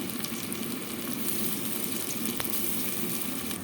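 Ground masala paste sautéing with onions and ginger in a pan for mushroom biryani, giving a steady, close, continuous sizzle with no talking.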